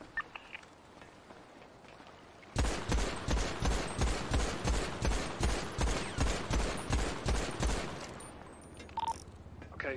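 Rapid automatic gunfire from shooting police officers in a video game heist, a long rhythmic burst of about twenty loud, evenly spaced shots after a quiet start, then brief scattered sounds at the end.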